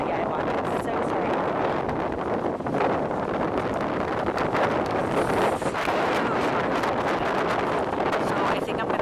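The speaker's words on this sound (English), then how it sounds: "I think the wind is gonna be so bad" Strong wind buffets the microphone at a marina in Pensacola on a very windy day: a loud, continuous roaring rumble throughout with no letup.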